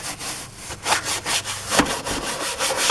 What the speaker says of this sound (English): I'm going to brush it just a little bit.